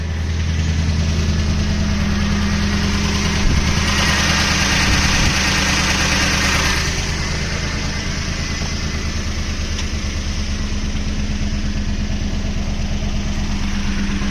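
A Ford 5.4-liter 3V V8 in a Super Duty truck idles steadily and smoothly, a close, even low rumble with a brief uneven bump partway through and no talking.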